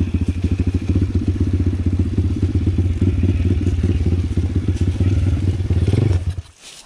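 Enduro motorcycle idling loudly nearby with a steady, chugging engine rumble and some clattering, then pulling away and quickly fading in the final second.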